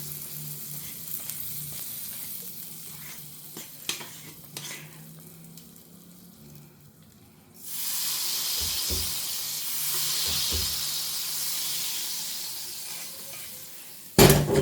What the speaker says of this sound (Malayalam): ഈ ചെറിയുള്ളി മൂപ്പിച്ചെടുത്തത് ഒഴിച്ചു കൊടുക്കാം